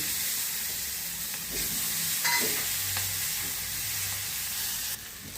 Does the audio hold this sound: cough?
no